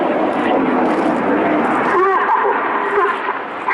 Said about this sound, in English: The following pilots now use their feet to input a lot of rudder and swing the jets out like a pendulum in line